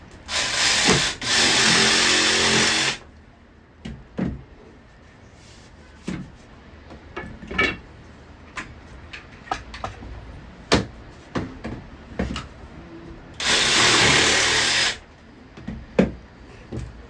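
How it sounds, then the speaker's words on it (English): Two long, loud bursts of a power drill, one at the start and one near the end, with scattered clicks and knocks of handling in between. "you're going to drill a hole first?"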